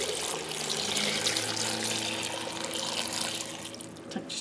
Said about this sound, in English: I'm going to add enough water to cover them.